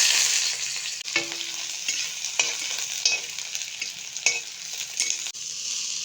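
Onions frying in hot oil in a wok (karai), a steady bright sizzle with occasional stirring scrapes and clacks throughout, close and fairly loud, no talking.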